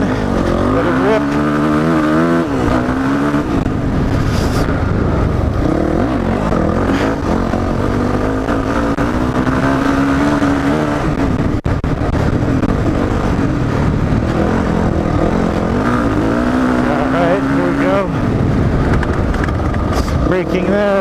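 A 2005 Yamaha WR 450 dirt bike races over a trail course, its engine roaring loudly and without a break as it rises and falls through turns, gear changes and bursts of throttle, with wind noise under it.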